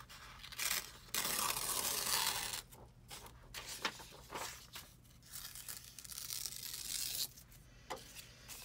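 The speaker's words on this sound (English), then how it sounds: "I just wanna tear that edge a little more." The edge of a book page is torn away by hand for decoupage pockets: a few close, crisp ripping bursts, one long tear near the start, then shorter tugs and rustles of paper.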